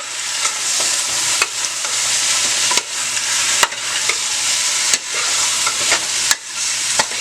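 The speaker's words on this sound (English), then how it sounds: "You can hear that sizzle from the oil." Loud, steady sizzling of hot oil as curry chicken is stirred, broken by occasional scraping clatters of a utensil against the pan.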